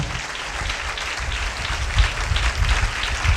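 A church congregation claps hands together, dense and continuous at close range, with no voices standing out.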